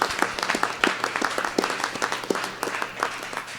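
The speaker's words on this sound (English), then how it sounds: "Let's give a round of applause to Reverend Myrna for her beautiful message today." A church congregation applauds after a Sunday sermon, a thin scattering of individual claps spread across a few seconds, moderately close and fairly quiet with no voices over it.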